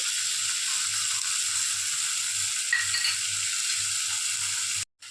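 Tomatoes and ginger sautéing in a pan for paneer gravy, giving a steady, even sizzle with a faint low scraping texture underneath, continuous until a brief cutout near the end.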